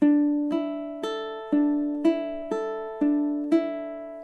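Ukulele fingerpicking étude played on a single held chord: eight evenly spaced plucked notes, each ringing bright and clear before the next, a steady solo pattern at close range with no voices.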